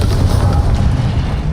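A Confringo fire spell blast from Hogwarts Legacy combat: a single heavy, booming burst with a deep rumbling roar that fills the moment, loud and close, with no talking over it.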